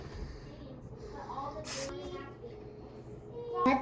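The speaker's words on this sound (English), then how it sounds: "Spray your pan." A brief hiss of cooking spray onto a baking pan for chocolate chip cookies, a short burst amid quiet kitchen sounds and a voice, with a second quick spurt at the end.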